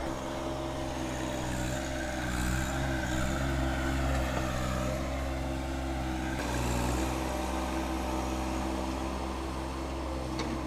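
A compact tractor works in a backyard, levelling ground, its engine holding a steady, fairly loud drone with a constant hum throughout and no talk.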